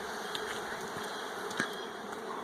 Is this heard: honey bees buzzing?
yes